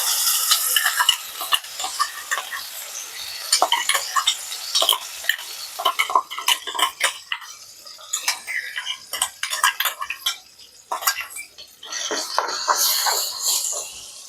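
Onion chutney being stirred and mixed in a pan, with repeated scraping and clinking of a utensil against the metal in an uneven, busy rhythm, close and moderately loud with no talk.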